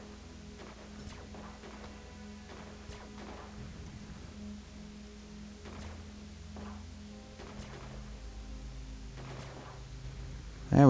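Gunfire from shooting enemies in the video game Space Haven, a series of sharp bursts repeating every second or two, quiet and set over a low steady hum.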